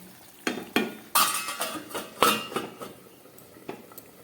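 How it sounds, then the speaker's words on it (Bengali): Metal pots and utensils clink and clatter in a home kitchen as a lid is set on a cooking pot of simmering potatoes and cauliflower for a fish curry, several sharp knocks spaced out over quiet background. "এবার আমি একটা ঢাকা দিয়ে দিচ্ছি।"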